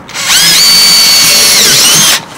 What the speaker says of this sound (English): I'm going to use my drill to do a pilot hole